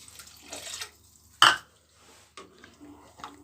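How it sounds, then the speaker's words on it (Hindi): Half a cup of water is poured into chicken cooking in a pot for malai boti biryani, giving one brief loud splash and gurgle between quieter kitchen rustles. "साथ में मैं इसमें पानी ऐड कर दूँगी 1/2 कप"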